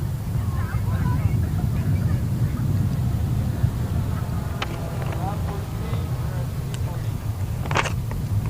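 A UTEP cargo model airplane flies at a Design/Build/Fly competition, heard as a steady distant motor drone under a commentator's voice, with a couple of brief sharp sounds near the end.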